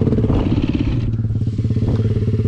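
Close, loud enduro motorcycle engine chugging and revving with rapid pulsing rhythm during off-road riding, some clatter and rattling from rough terrain, no talking.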